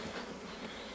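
Honeybees buzzing around a hive as comb is fitted into the colony, a steady close insect drone filling the whole moment with no voices.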